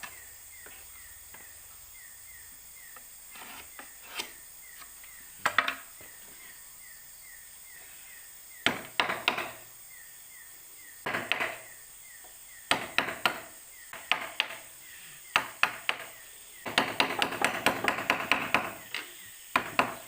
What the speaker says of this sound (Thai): เอาซิ้วนี่แหละครับ ตอกลงไปตามโครงเลยครับ